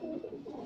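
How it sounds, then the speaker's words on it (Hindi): A large pigeon held in the hand gives a brief, low, throaty coo, close and fairly clear, with no talking over it. "ये बड़ा अच्छा कबूतर है"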